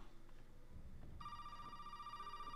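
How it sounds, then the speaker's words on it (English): A telephone rings in an old house in the video game Resident Evil 7, its steady electronic tone starting suddenly partway through and continuing over a low, quiet ambient hum. "the phone rings as you come into here"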